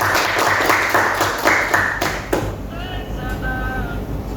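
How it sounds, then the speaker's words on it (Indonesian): A classroom audience of vocational school students applauds for a few seconds. The clapping is close, then fades out into quieter room sound. "terima kasih Aplaus untuk kita hari ini"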